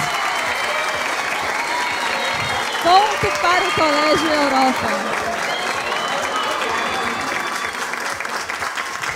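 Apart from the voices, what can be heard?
audience applauding and cheering at a school quiz final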